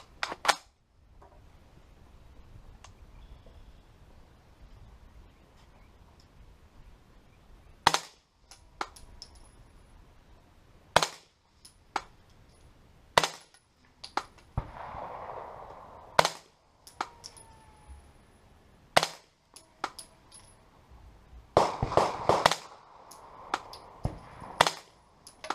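Tavor SAR rifle fired at 25 yards, a series of sharp, loud cracks spaced a few seconds apart with some closer together, each decaying quickly over quiet background.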